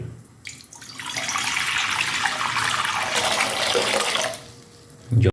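Water pours steadily from a tap into a pan for mango chutney, a continuous broadband splash lasting several seconds before cutting off, with a brief clatter at the end.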